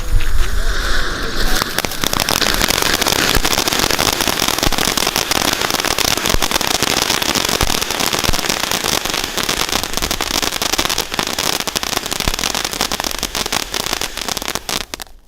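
A tin beer firecracker, a Diwali fireworks item, goes off with a loud, dense, sustained crackling and sizzling burst that continues without pause for many seconds.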